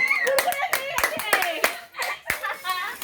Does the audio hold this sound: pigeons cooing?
no